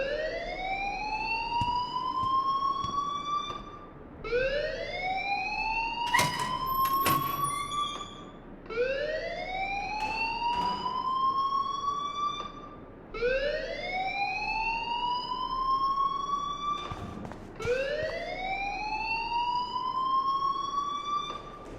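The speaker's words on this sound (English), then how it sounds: "please turn off that alarm since that's your job" A fire alarm blares in the video game Life is Strange, sounding as a loud rising whoop that repeats about five times in a steady cycle, with a few sharp clicks between the sweeps and no voices.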